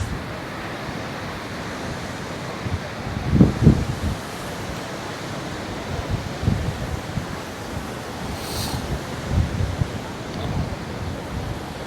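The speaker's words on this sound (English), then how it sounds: "Size of them waves." Ocean waves roll in at a beach by a harbour in Torrevieja, with a continuous surf wash and gusting wind buffeting the microphone; louder surges of breaking water stand out every few seconds.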